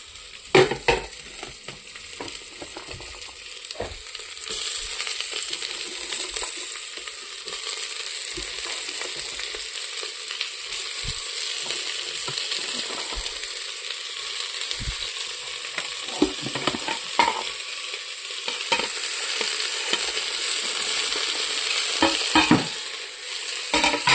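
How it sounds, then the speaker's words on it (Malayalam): Vegetables and onions sauté in a pan with a continuous sizzle, and a spoon stirs and scrapes the pan in repeated clicks and knocks throughout. "ഇതെല്ലാം ഒന്ന് വഴറ്റി കൊടുക്കാം"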